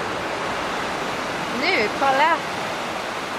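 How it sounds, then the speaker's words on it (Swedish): Sea waves breaking against rocky cliffs, a steady broadband wash of surf that runs through the whole stretch, with someone talking briefly over it near the middle. "Här kommer massa vågor emot klipporna."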